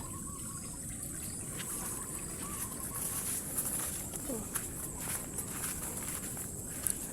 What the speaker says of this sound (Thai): น้ำไหลออกมาให้เห็นไหม